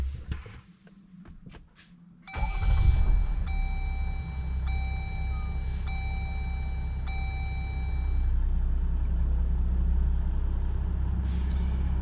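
A Jeep Gladiator/JL starts after a few quiet seconds: the engine turns over and settles into a steady idle, while a dashboard warning chime repeats several times over the running engine.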